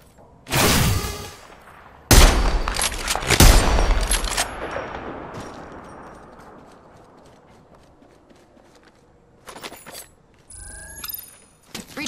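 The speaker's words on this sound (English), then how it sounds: "Taking fire!" Gunfire in the Apex Legends battle royale shooter: a loud burst of rapid shots, then a second longer volley that fades into a lingering tail, with brief sharper bursts and electronic game effects later on.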